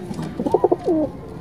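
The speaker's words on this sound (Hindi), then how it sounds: "कबूतर भी थोड़ा थोड़ा गुटकती है।" Newly acquired pigeons coo softly and close by, a short burst of throaty, pulsing notes followed by a drawn-out falling coo.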